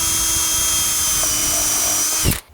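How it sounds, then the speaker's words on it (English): An 1/8 inch drill bit with a countersink attached runs steadily with a high motor whine, loud and close, then cuts off sharply with a brief clunk near the end. "I'm using an 1/8 inch, maybe 1/8 inch drill bit with a countersinking thingamajiggy attached to it."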